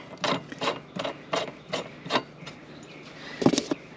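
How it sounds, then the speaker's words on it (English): A wrench tightens a pedal on a Mokwheel Scoria electric bike, six rhythmic rasping ratchet strokes followed by a brief metallic clatter, close and moderately loud, no talk. "And then torque it down with your wrench"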